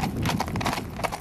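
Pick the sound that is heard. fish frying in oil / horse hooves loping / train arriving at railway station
horse hooves loping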